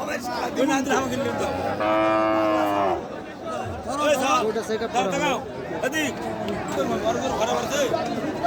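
Cattle moo loudly nearby at a busy cattle market, amid a bustling crowd with people chattering and calling out throughout.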